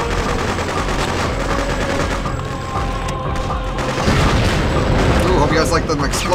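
Explosions and gunfire from the Freedom Fighters video game rumble nearly nonstop: a dense, loud barrage of bursts and booms, with voices talking over the battle.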